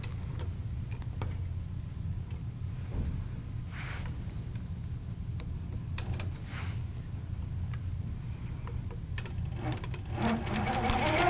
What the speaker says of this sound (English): I'm going to start my line of stitching and just stitch